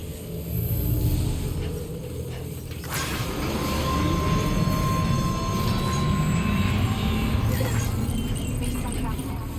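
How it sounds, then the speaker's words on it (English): A monorail train in the Death Stranding 2 video game runs with a loud, steady mechanical rumble and whir. The sound swells in abruptly a few seconds in and continues unbroken. "Monorail's back in business."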